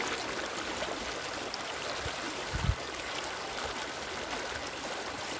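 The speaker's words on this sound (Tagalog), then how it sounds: "Malakas lang yung agos." Strong current of a freshwater river, a steady broadband rush of flowing water with one brief low thump midway.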